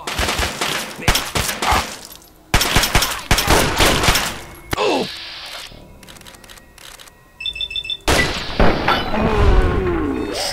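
Gunfire in Fallout 3 sounds in loud, close bursts of rapid shots separated by short pauses, mixed with clattering mechanical clicks and a few electronic beeps.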